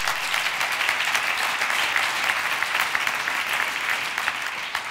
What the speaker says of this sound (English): Give them a round of applause for bringing us all together.